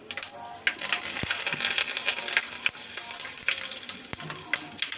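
Curry leaves crackle and sizzle in hot oil for tempering a simple tomato-onion pulusu, a busy close frying hiss with occasional sharp pops and a spoon clink.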